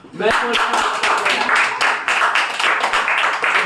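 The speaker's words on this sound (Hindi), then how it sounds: "ताली बजाओ।" Students in a classroom clap together in quick, dense, uneven bursts that carry on steadily and fairly loudly for several seconds.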